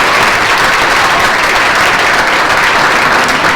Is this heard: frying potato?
no